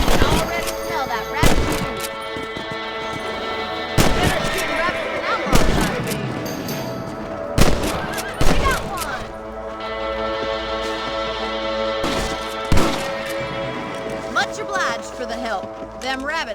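Repeated gunshots ring out while hunting rabbits in the Western video game Red Dead Redemption, sharp loud cracks spaced every couple of seconds over a steady musical score, with a voice talking in between.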